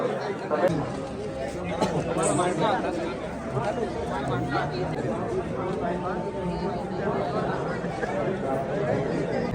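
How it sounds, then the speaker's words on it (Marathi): Dense crowd chatter fills the grounds of Bhimashankar temple, a steady babble of many overlapping voices close by with occasional footsteps and shuffling, continuous throughout without any single dominant speaker. "खूपच गर्दी आहे."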